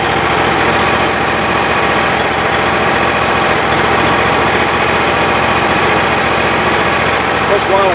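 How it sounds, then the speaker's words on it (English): A 25 hp Kohler Command Pro engine on a Wood-Mizer LT35 sawmill idles steadily while warming up, a loud, even, continuous mechanical drone with no pauses throughout. "Command Pro Kohler engine, and it's 25 horse. So what I'm doing right now is just warming it up."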